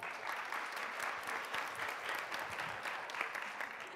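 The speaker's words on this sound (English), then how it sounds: "So please give her a round of applause." An audience at a pitch competition applauds for a judge, a dense, even wash of clapping held at moderate distance for several seconds without a break.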